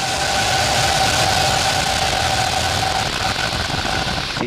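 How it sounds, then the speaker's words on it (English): SpaceX Falcon rocket engines at liftoff for the IXPE satellite launch, a steady loud broadband roar that holds unbroken throughout with no voices. "Ignition. Liftoff. Go Falcon."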